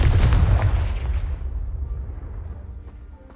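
A Confringo blasting spell detonates in a video game with a loud, deep boom, then a rumbling decay that fades over a few seconds, with no talk over it.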